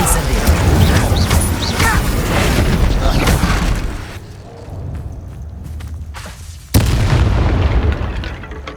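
The Incendio fire spell cast in the video game Hogwarts Legacy, a loud roaring burst over the clip's opening seconds. The roar fades to a quieter lull, then a sharp blast kicks in again and settles into rumbling.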